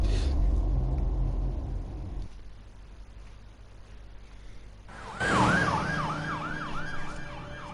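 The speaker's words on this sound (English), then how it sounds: "Goes the ambulance." An ambulance siren in the Batman Telltale video game starts up after a muffled rumble and a short quiet stretch, its rising and falling wail repeating loudly over traffic noise, with no voices.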